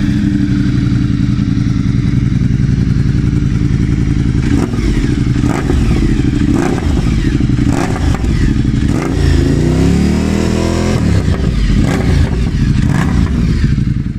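Ducati motorcycle engine with a deep, cruiser-like burble, running loud and close with a steady throb and several throttle blips and revs throughout.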